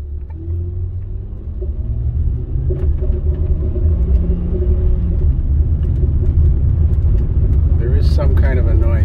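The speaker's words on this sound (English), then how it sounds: "There is some kind of a noise going forward under a load, but it's definitely worse when you're turning." A 2007 Honda Ridgeline moans under load while driving at low speed, a steady low droning rumble that grows slightly louder over time, with a voice talking over it.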